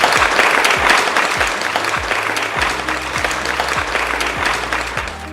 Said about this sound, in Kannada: ಕೃಷಿ ಚೌಪಾಲ್ಗಾಗಿ ಮತ್ತೊಮ್ಮೆ ದೊಡ್ಡ ಸುತ್ತಿನ ಚಪ್ಪಾಳೆಯೊಂದಿಗೆ ಒಗ್ಗೂಡೋಣ.